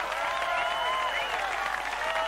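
Game applause from Delicious: Emily's Taste of Fame, a dense, even clapping crowd lasting a couple of seconds, bright and steady with a faint voice mixed in.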